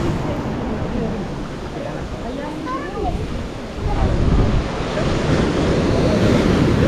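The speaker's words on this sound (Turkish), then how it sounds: "Evet, şimdi çok büyük bir dalga geliyor" Large ocean waves crash and rumble nearby at a hidden cove on Bali, with steady wind noise, the surge growing louder and heavier partway through as a big wave breaks.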